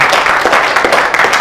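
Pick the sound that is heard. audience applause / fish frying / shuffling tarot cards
audience applause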